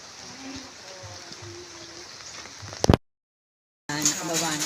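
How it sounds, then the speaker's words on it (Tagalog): Rain falls steadily on an outdoor path near the Padre Pio shrine in Bulacan, a soft continuous hiss that cuts out suddenly, goes silent for about a second, then resumes with a faint voice in the background. "Umuulan."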